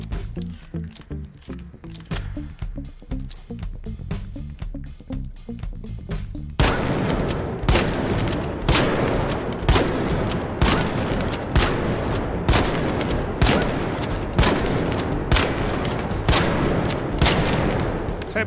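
El Toro shotgun fitted with a kinetic converter mod in Arc Raiders, firing a rapid run of loud, evenly spaced blasts that grow heavier partway through, with no talking.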